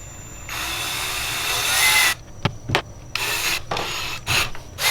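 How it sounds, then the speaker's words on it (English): A power drill bores a hole for a Perrin tow hook relocator kit on a car, first a steady loud grinding run of about two seconds, then a series of short bursts and stops. "We're gonna drill a hole."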